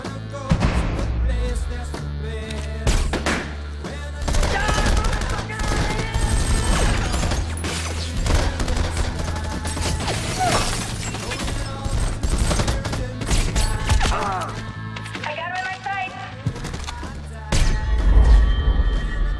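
Gunfire in a movie fight scene, dense rapid bursts of shots layered over a loud score and effects, continuous and busy throughout.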